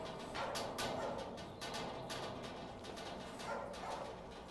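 A dog named Eddie barks repeatedly at an animal shelter, several loud close barks in an uneven run over a continuous background din.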